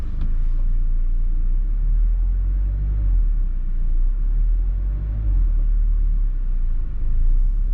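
A 2021 Mazda MX-5 Miata with a manual gearbox pulling away in first gear: a steady, loud low engine rumble heard from inside the car, rising slightly and holding throughout with no talk.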